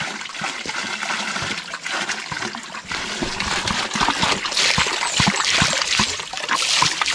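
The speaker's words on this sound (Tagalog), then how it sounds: "Sagana sa tubig to." Water in a mountain home in the Philippines gushes and splashes continuously, a loud, steady flow with trickling and spattering throughout.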